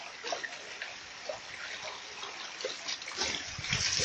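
Water rushing and splashing loudly from a burst hose during borehole drilling, a steady close gush with some rumbling surges and no talk.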